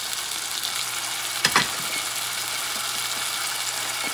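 A thin bison porterhouse steak frying in a preheated pan, giving a steady loud sizzle with one brief clatter of handling partway through.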